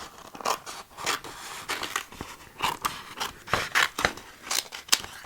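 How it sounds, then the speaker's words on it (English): Scissors snip through paper to cut out a hand-drawn sticker, with quick, irregular crisp cuts and faint rustling of the sheet, close and fairly quiet. "I might just cut it out and make my life easier"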